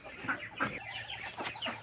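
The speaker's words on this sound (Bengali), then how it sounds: "মাশাআল্লাহ, দেশি মুরগি এবং চীনা হাঁস।" Desi chickens on a farm give a few short, close clucks in quick succession, moderately loud against quiet background.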